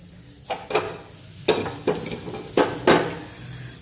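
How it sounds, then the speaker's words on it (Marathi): A kadhai pan set onto a gas stove while cooking an okra curry: several sharp metallic clanks and scrapes in irregular succession, close and fairly loud. "आणखीन एक दुसरी कढई ठेवणार आहे मी गॅसवर"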